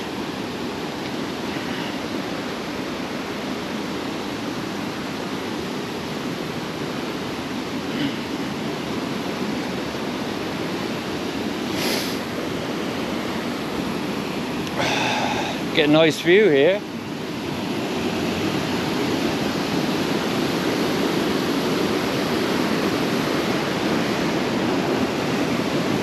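A river rushes steadily through a canyon on the Lycian Way, a broad unbroken wash of flowing water close by. Wind buffets the microphone, and a voice speaks briefly partway through.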